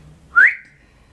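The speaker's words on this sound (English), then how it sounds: "once you put your lips together and you blow," A single short whistle blown through pursed lips, a brief rising tone heard close and clear with no talking around it.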